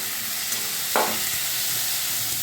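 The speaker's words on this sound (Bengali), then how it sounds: "এই মশলাটা দিয়ে ভালো করে কষতে হবে" Spices sautéing for rajma in a hot pan give a steady, close frying sizzle, with a brief louder burst of hiss near the start and no voices.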